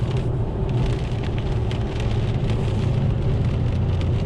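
Steady rain drums on a Mercedes C63 AMG while driving, a constant hiss, alongside a low rumbling engine drone.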